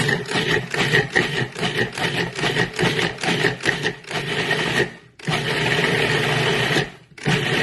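A food processor pulses dates and sugar in a loud, whirring, chopping burst that runs for several seconds, stops briefly, restarts and stops again, with no talking.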